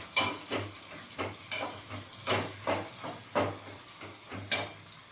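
Onions frying in a pan for chitranna make a soft background sizzle, broken by regular bursts of louder stirring and scraping about every second.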